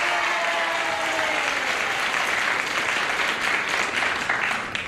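A 1974 game show studio audience applauds steadily, a dense wash of clapping that holds loud and even for several seconds before tapering slightly at the end.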